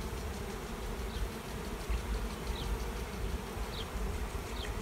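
A swarm of honey bees buzzing around a hive, a steady dense drone filling the air with no pauses, close and moderately loud.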